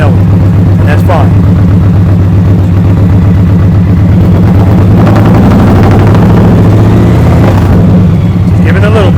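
A 2023 Indian Pursuit Elite motorcycle fitted with a Tab Performance exhaust idles loud and close, a steady deep rumble that swells briefly with a throttle blip near the middle.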